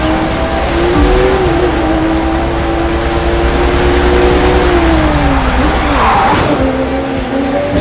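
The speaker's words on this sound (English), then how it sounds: "Starting off with a nighttime street race challenge." Cars roar through a nighttime street race in The Crew 2, a loud continuous engine drone with rising and falling pitch and a tire squeal near the end.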